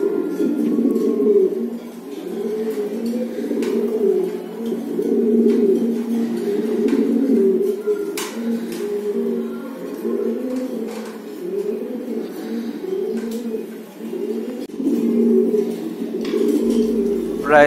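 English Barb pigeons coo in a low, continuous rolling chorus, close and steady, with occasional light clicks and wing or cage knocks.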